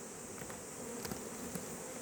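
Honeybees buzzing at a hive, a continuous soft droning hum from many insects, with a few louder individual bees passing close by.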